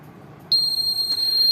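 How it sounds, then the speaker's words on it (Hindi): A continuity tester checking a piece of household wire gives a steady, high-pitched electronic beep that starts abruptly partway in and holds on loudly and continuously over a low background hum. "अगर ख़राब होती तो इसकी बीप की साउंड सुनाई हमें नहीं देती।"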